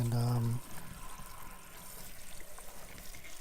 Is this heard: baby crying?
no